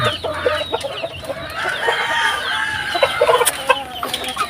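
Pet black chickens cluck and chatter close by, a dense stream of short calls and squawks with faint rooster-like notes, no talking.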